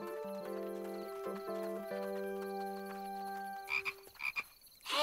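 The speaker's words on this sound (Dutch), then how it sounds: "dat klinkt als een kikker" Frog croaking in a forest, a run of low, sustained tonal calls over several seconds followed by a few short, sharper bursts near the end, heard alone without speech.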